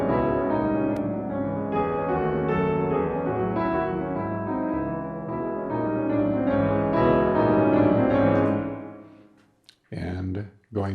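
VSL Bösendorfer Imperial concert grand piano recorded through extended surround mic positions including high surround, mid, ribbon and tube, a rich sustained chordal passage that swells and then decays.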